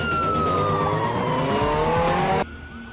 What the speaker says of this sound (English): the police unit that passes him is a Ford Crown Victoria